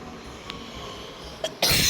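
A single sharp cough bursts out right at the microphone at the end, after quiet room hum and a couple of faint clicks. No one speaks.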